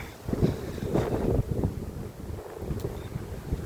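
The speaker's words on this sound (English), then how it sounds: "a bit breezy as you can probably hear, which is nice" Breezy wind buffeting a microphone outdoors on a hot, sunny day during a walk: a steady, loud, rumbling gust with brief swells, filling the whole stretch without voices.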